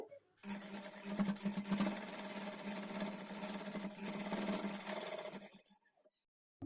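A sewing machine stitches a double-folded belt strip for a kids' lehanga, running in a steady continuous whir for several seconds before stopping abruptly.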